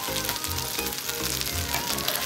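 Marinated chicken pieces fry in a pan while fried rice is being made, giving a loud, steady sizzle with low bubbling pulses and no voices.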